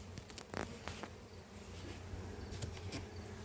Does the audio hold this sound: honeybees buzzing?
yes